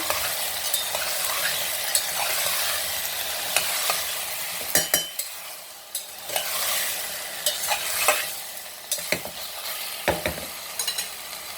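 Potatoes seasoned with salt and black pepper stirred in a pan for a Sindhi-style fasting curry: a soft continuous sizzle broken by sharp spoon scrapes and clinks against the pan, close up with no talk.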